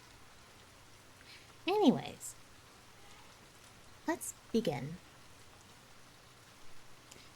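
Steady, soft rain ambience hisses in the background throughout, with a person speaking briefly over it.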